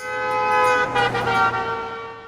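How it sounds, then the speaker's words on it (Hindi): A car horn honks in a sustained, steady blare over the low rumble of a running engine, close and loud throughout. "हॉर्न बजा के पू पू"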